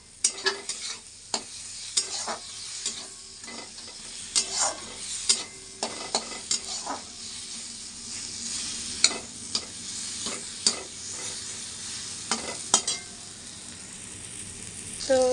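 Potatoes and spices fry in an oiled kadai, a low sizzle punctuated by repeated sharp scrapes and clinks of a stirring spoon at an uneven rhythm, close by, with no talk.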